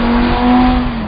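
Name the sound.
Audi R8 5.2 V10 engine revving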